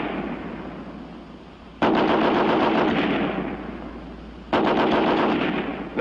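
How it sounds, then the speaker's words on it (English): An American Light .30 machine gun fires from its bipod in two long automatic bursts, each a loud, rapid string of shots with echo trailing between them. "First, the American Light 30 on the bipod."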